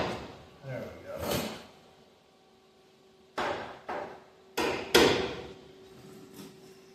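Hammer blows on metal during rust repair of a 1959 Ford F100 truck's A-pillar: a few sharp, loud strikes in two clusters with ringing decay between quieter gaps, under faint background talk.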